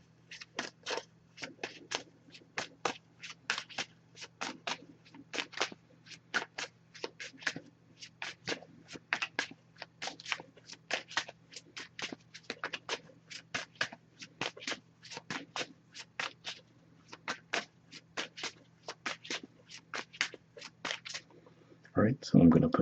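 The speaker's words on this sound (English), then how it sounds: "Just going to pull a single card from this deck." A Messages of Love oracle card deck is shuffled close up in a long run of crisp, rapid rustling taps and slaps, then a louder handling scrape as a card is drawn at the end.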